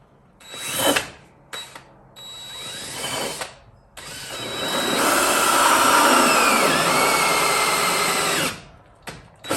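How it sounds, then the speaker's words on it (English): Power drill boring holes through the thick sidewall of an old tire, with short loud whirring bursts at first, then one long sustained grinding run, close up and with no talk. "So get these holes drilled and get this thing wrapped up."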